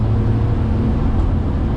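Daihatsu HiJet kei truck engine droning steadily at highway speed, a loud low hum with road noise heard from inside the cab, no talking.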